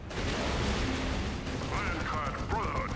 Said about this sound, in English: Those las cannons taking the final shots off on those horrors.